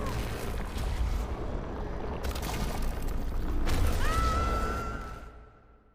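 A flashbang detonates in a Frictional Games horror game: two sharp broadband bursts, then a rising high-pitched ringing tone that holds steady before the sound fades out, with no talk.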